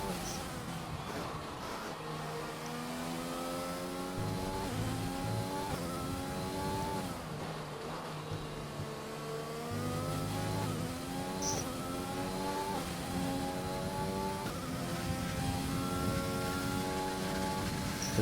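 Race car in a racing video game taking the Della Roggia chicane in second gear at Monza, Italy: a buzzy engine whine rising and falling through repeated upshifts and downshifts, steady and fairly close, with no talk.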